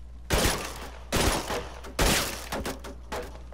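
Gunfire in the video game Uncharted 2: four or five loud, sharp bursts of shots spaced about a second apart, each with a short echoing tail.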